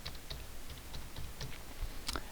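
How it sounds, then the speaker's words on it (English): Rapid key presses on a computer keyboard as a phone number is entered, a quick run of close, crisp clicks with a denser burst near the end, no talking. "I'm just typing a random number."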